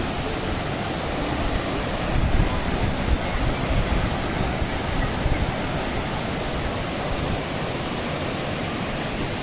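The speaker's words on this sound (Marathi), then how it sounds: "मुख्य धबधबा आपल्याला जवळजवळ दिसायला लागलो हा जबरदस्त जवळजवळ पन्नास ते साठ फुटावर ना अधिक होय सत्तर एक फुटावर ना खाली कोसळत आहे धबधबो" A roughly seventy-foot waterfall pours down in a foaming cascade, a loud, steady broadband roar that fills the scene without pause or talking.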